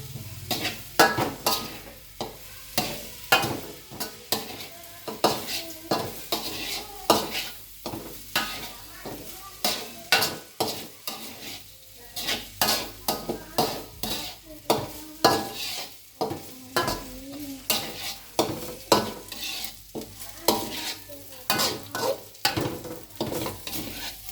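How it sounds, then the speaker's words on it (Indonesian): Nasi goreng stir-fried in a pan, a metal spatula scraping and clanking rhythmically against the pan over a steady sizzle, repeated strokes continuing close by for the whole stretch. "abangnya lagi itu bikin nasi goreng patatis"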